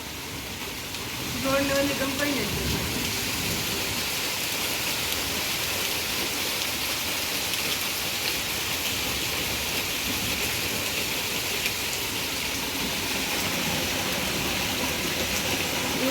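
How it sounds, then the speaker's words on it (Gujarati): Heavy rain pours down in a steady, dense roar that hardly changes from start to finish. "આજ ત્યાં સવારનો મેં ચાલુ છે ધબધબાટી બોલાવે"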